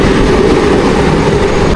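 A short train of only a few carriages rolls past near a village railway station in Ukraine, a loud, close, continuous rumble that cuts off abruptly at the end.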